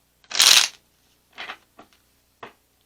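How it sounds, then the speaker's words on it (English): Tarot cards are shuffled in one loud riffling burst, followed by a few softer, shorter card flicks and taps, close and with no talking. "One more shuffle."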